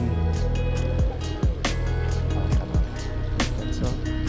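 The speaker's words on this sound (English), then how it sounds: "You can hear the engine" A Mobot Ovo e-bike motor runs steadily at close range with a continuous mechanical hum, broken by several short rattling bumps and clunks as the bike rolls along.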